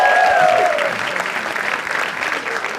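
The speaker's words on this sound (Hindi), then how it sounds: "एक बार जोरदार तालियां for him यार" Loud, sustained applause rises from a comedy talent-show crowd, a thick continuous rattle of hands, with a host's voice heard briefly at the start before the clapping takes over.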